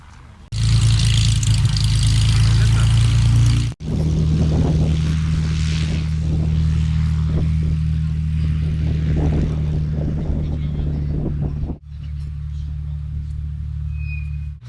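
A small propeller airplane lands at a flying club airfield, its loud, steady engine drone holding low and strong, cutting out briefly and then returning, with a voice talking over it and a quieter tail at the end.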